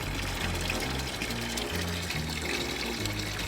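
Aquarium tank water being siphoned into a bucket, a steady close rushing and trickling stream that runs without pause.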